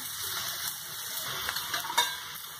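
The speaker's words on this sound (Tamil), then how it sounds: "நான் இப்போ கேரட்டும் வெங்காயம் மட்டும் சேர்க்குறேன். இதை வந்து நல்லா ஒரு 2 மினிட்ஸ் வதக்கலாம்." Carrot and onion sizzle in oil while being sauteed for vermicelli upma, a steady close hiss with a few light clinks of a spoon against the pan.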